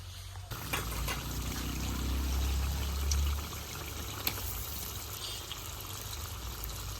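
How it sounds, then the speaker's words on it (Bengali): Meat dropped into hot oil with cooked-down spices in a home kitchen, giving a steady close sizzle that swells for a few seconds and then settles into a continuous fry, with no talk. "এখন তেলে মাংসটা দিয়ে দিই।"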